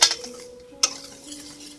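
Dry ingredients for semolina date cookies get mixed in a bowl: two sharp clinks of a utensil against the bowl, then soft scraping and stirring, close and alone.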